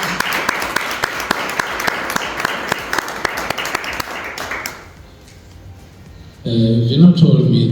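Audience applause at a storytelling showcase, dense clapping with sharp individual claps for about five seconds, then fading to quiet before a burst of other sound near the end.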